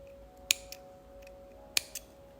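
Scissors snip through bead cord for a handmade amethyst and rose quartz mala bracelet: two sharp, close cuts about a second apart, each followed by a lighter click, over a faint steady hum.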